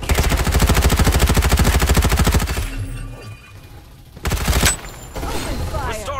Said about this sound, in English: Firing will commence shortly.